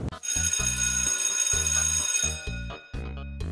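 A school bell ringing in a cartoon, heard as a bright, rapidly pulsing electronic ring over a chopped low tone, then a few shorter bursts after a brief break.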